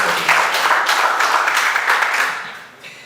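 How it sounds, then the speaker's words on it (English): A room of guests at a professional talk and dinner bursts into steady clapping, fairly close and full for a couple of seconds before it tapers off at the end. "To that you deserve a clap rather from this point."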